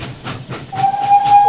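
Steam locomotive in a Trainz railway game puffing away with breathy hiss bursts, then a long steady steam whistle tone over continued chuffing, loud and close.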